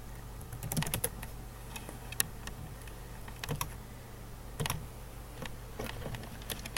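Quiet, irregular tapping on a computer keyboard as a password is entered, short bursts of close keystrokes separated by brief pauses.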